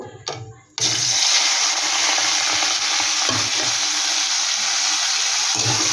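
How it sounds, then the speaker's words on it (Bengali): Prawns hit hot oil in a wok and burst into a loud, continuous sizzle that holds steady after a brief quieter start, with occasional stirring clatter underneath. "কড়াইতে কিন্তু আমি তেল দিয়ে দিচ্ছি এবার চিংড়ি মাছটা ভেজে নেব"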